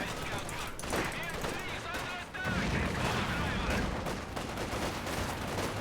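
MG42 machine gun fire rattles in Company of Heroes 2 amid a dense battle of gunfire and artillery, continuous and loud under overlapping voices.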